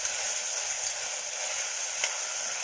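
Chopped onion sautéing in hot oil in a pan for a Marathi-style mushroom curry, a steady soft sizzle with faint stirring, no voices.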